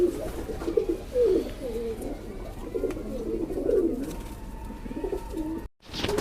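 Pigeons in a loft of five breeding pairs of Madrasi Kalpare birds coo repeatedly in low, rolling phrases close by, with a sudden handling thump near the end.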